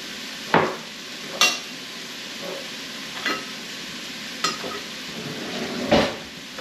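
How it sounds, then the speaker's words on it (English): Beef stew vegetables with carrots, salt and pepper sautéing in a pot, a low steady sizzle broken by a few separate spoon scrapes and clanks against the pot, close and without talk. "we're going to just kind of saute all this together until the carrots are starting to cook through"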